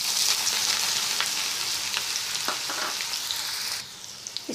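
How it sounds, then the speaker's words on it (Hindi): Onions frying in oil with whole spices in a pan over a medium flame for Bengali-style rohu fish curry, a steady close sizzle with crackling pops and occasional stirring scrapes. "अब हम इसमें प्याज डाल देते हैं।"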